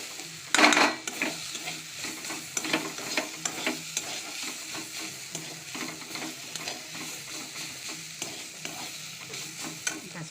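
Red amaranth greens sizzle in a pan while being stirred, a soft continuous crackle broken by repeated scraping clinks of the spatula against the pan, loudest at the start.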